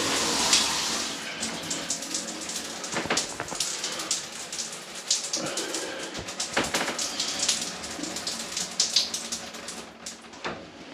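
Water sprays steadily from a newly fitted shower head on a wall, a continuous hiss of droplets hitting a surface with a few brief knocks, close and fairly loud, with no talk.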